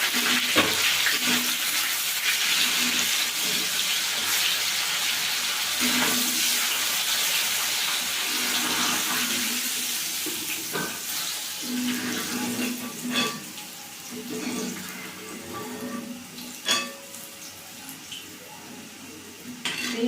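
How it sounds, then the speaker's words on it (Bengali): Yardlong beans sizzle in hot oil in a home kitchen for a Bengali borboti chochchori, a steady hissing, crackling fry with occasional clinks and stirring sounds over the top. "এগুলো একটু ভেজে নেবো।"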